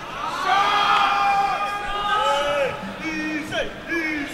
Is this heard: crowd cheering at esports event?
yes